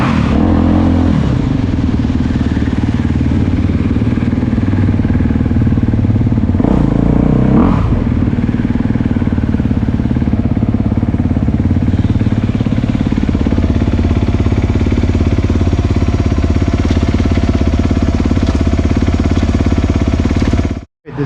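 A 2022 Honda CRF250RX dirt bike engine runs loud and close for a long stretch, a steady rough roar with brief revving surges and clattering, then cuts off abruptly at the end.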